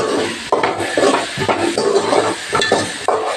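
Ivy gourd, onion and tomato are sautéed together in a pan, stirred in loud, close, rough scraping strokes over a soft sizzle, with no one speaking.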